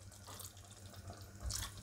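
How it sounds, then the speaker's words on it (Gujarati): Water pours steadily into a pot of simmering cauliflower curry in a home kitchen, a continuous close splashing and trickling that swells briefly near the end, with no talking. "થોડુંક પાણી આપણે હજી નાખશું"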